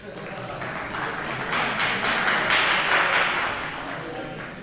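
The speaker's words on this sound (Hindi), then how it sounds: "एक बार अपने लिए भी तालियां बजा देगा" An audience at an Urdu poetry mushaira breaks into applause, a crowd of hands clapping that swells to a peak and then eases off over a few seconds, mixed with a voice.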